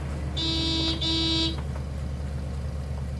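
A car horn sounds two long steady honks in quick succession in a snowy drive-in restaurant parking lot in California, loud and close, over a low idling hum, then fades to background rumble.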